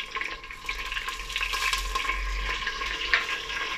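Chicken fries with onion, garlic and ginger in a pan for a radish chicken curry, a steady close sizzle with a soft stirring hiss and an occasional bubbling spatter.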